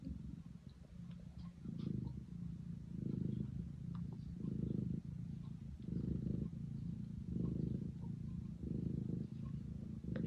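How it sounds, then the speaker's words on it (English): A cat purrs steadily up close, the low rumbling pulsing in rhythmic waves with each breath, alone without any talking. "And she's purring away."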